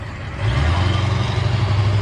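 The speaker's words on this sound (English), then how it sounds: "Sorry for the traffic noise." Street traffic in historic Quakertown, Pennsylvania, where an engine rumble swells in about half a second in and holds as a steady, fairly loud low drone.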